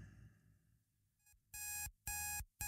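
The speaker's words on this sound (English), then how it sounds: "He placed his finger down on the button to silence the irritating chatter of the alarm." A digital alarm clock beeps in three loud, evenly spaced bursts after a faint lead-in, each burst a sustained electronic tone, heard close and alone.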